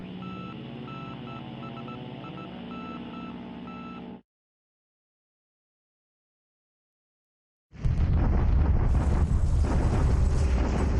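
Naval bombardment in the War Plan Orange strategy game: a steady tonal drone cuts to several seconds of silence, then loud, dense explosion rumble bursts in near and heavy, with no talk.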